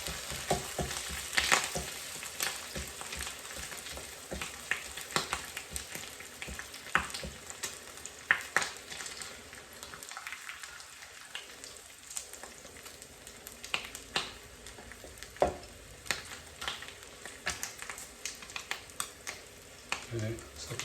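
Bacon frying in a pan, a continuous close crackle and sizzle with sharp pops and spits scattered throughout, steady for a long stretch with occasional louder bursts.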